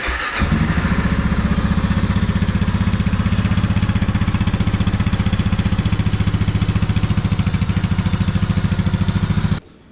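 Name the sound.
factory exhaust of a 2022 Kawasaki KLR 650 motorcycle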